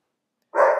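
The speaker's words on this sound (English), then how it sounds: "you'll excuse my dog barking in the background" A dog gives a single sharp, fairly loud bark in the background, cutting in abruptly after half a second of silence.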